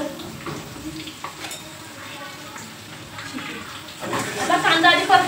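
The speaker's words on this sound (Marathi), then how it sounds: "आता कांदा आधी परतवून घ्यायचा आहे" Onion sautéing in a pan after whole spices, a soft steady sizzle with light stirring that grows louder and brighter toward the end, close by, with no talking over it.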